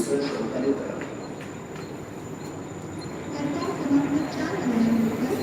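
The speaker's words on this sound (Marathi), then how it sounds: "ट्रेन आहे म्हणते ए C train all door close" A Mumbai AC suburban train rumbles steadily at moderate loudness, with faint squeals of wheels or brakes near the end and no talk.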